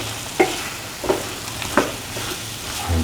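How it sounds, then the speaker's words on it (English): Plantain and cashews sauté in a pan with a low, steady sizzle, punctuated by a few separate spatula scrapes and taps roughly every half second, close and moderately loud. "Keep on sauteing for around 15 minutes"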